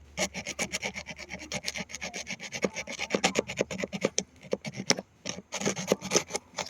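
Metal corners of an RV awning rail being ground and rubbed down make a steady rasping, scraping run of quick, rhythmic strokes, close and fairly loud, with no one talking over it.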